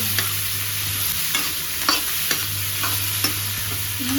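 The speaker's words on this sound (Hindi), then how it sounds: "ये मैंने इनको फ्राई होने के लिए रख दिया है, थोड़ी देर रोस्ट होने के लिए" Chopped tomatoes, onion, whole red chillies, ginger and garlic frying in a pan, giving a steady close sizzle with a few soft clinks and scrapes of stirring, no voices.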